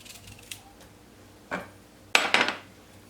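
A knife chops a broccoli stalk on a board in a few sharp, uneven strokes, a faint tap first and then two louder cuts close together near the end.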